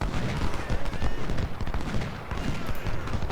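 Artillery and rifle fire in the Civil War strategy game Ultimate General, with 24-pounder cannons: dense, continuous crackle of many overlapping shots and booms, loud and unbroken throughout.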